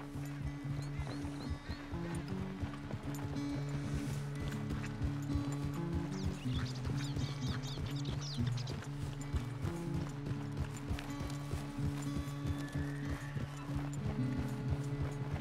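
Hooves of a galloping horse in Red Dead Redemption 2 pound in a quick, steady clip-clop rhythm close up, running continuously under game music and ambient sound.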